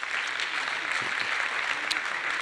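An audience at a PHP conference claps steadily throughout, a dense and loud spread of applause with no pauses.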